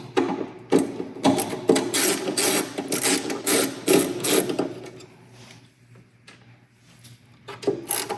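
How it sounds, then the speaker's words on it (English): A screwdriver removes switch box screws during a CB6 conversion kit install, making close, repeated rasping turns in bursts for several seconds before fading to quieter scattered handling noise. "since we're here with the screwdriver, let's just go ahead and take this switch box off"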